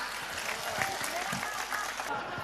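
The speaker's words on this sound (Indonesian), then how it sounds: "tepuk tangan." Audience applause at a large Indonesian gathering, steady crowd clapping throughout, fairly distant and even, with faint murmuring voices mixed in.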